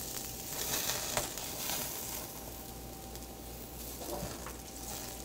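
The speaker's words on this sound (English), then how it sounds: "let's baste them with just a tiny bit of butter" Butter basting food in a hot pan sizzles in a steady, continuous crackle at moderate level, with brief louder spits and pops, and no voices.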